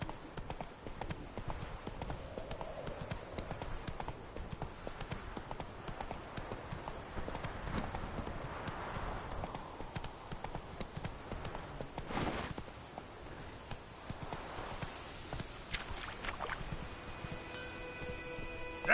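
Hooves of Roach, a horse galloping in the video game The Witcher III, drum in a fast, steady clip-clop rhythm throughout, close and continuous, with a short pause near the middle and faint rustling behind.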